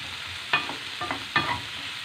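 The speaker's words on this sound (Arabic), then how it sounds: "ندير الخضره ديالي باش تحمر شويه في المقله مع شويه ديال زيت البلديه" Finely chopped vegetables frying in a pan with a little oil, a close steady sizzle broken by three sharp stirring scrapes and clatters.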